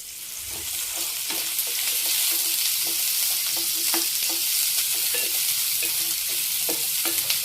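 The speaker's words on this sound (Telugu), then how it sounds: "ఫస్ట్ ఉల్లిపాయలు వేయించుకున్నాం." Chopped onions fry with a steady, loud sizzle in a pan while being stirred, and intermittent scraping clicks from the utensil repeat throughout, made in preparation for a tomato chutney.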